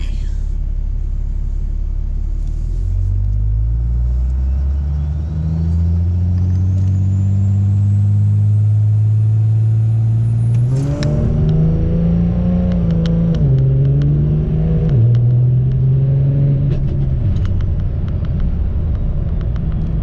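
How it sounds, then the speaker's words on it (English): A 1000-horsepower Cummins diesel truck makes a four-wheel-drive launch on about 20 pounds of boost. A deep rumble rises as the engine builds revs, then a loud surging roar lasts to the end, with a rising whistle above it. "That was a 4-wheel drive boosted launch at about 20 pounds of boost on tune 3"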